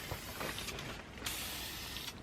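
Aerosol spray paint hissing steadily onto Brembo brake calipers from a Ford Mustang Track Pack, a continuous close broadband spray with a few brief surges and no talk.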